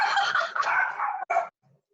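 Dog barking indoors at someone at the door, a close, loud burst of excited barks and yips over about a second and a half, then silence.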